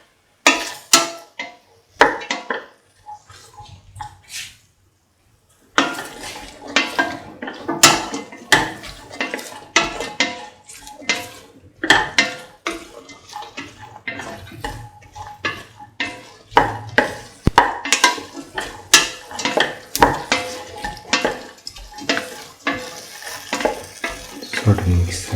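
Lemon long yard bean rice is mixed with salt in a pan, a spoon clattering and scraping against the metal in rapid, uneven strokes, briefly pausing before resuming over a faint sizzle.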